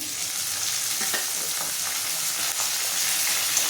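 Chopped tomato and ginger-garlic paste frying with browned onion in a pan, a steady close sizzle with faint stirring scrapes throughout, no talking.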